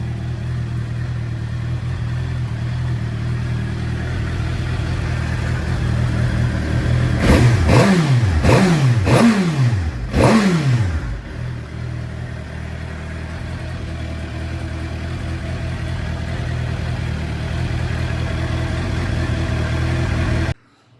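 A Suzuki GSXR750 motorcycle, just brought back to life on a boosted battery, idles steadily and loudly close to the mic, then gets four quick sharp revs before settling back to idle until it cuts off.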